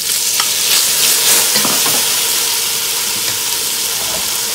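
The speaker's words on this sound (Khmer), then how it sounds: "ពីឆាវានៅក្នុងរយៈ3ទៅ4មិនុត" Cabbage, chicken and pineapple stir-frying in a pan give a loud, steady sizzle and hiss, with scraping stirs running throughout and no voices.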